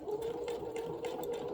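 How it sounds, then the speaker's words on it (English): A sewing machine running a straight forward stitch along tote bag fabric of cotton and vinyl, a steady close motor whir with a fast needle rhythm throughout. "We're going to create a straight stitch like we did on this side, going straight down."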